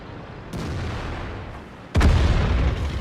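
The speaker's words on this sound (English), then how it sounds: "our artillery takes him out" Artillery fire striking a tank in a video game: two heavy booms, the first moderate, the second louder and closer, each with a rumbling tail.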